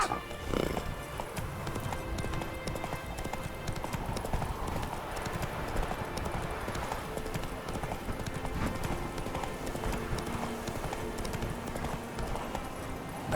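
Roach, a horse in The Witcher 3: Wild Hunt, gallops with rapid, continuous clip-clop hoofbeats over game ambience and music, with a voice briefly heard.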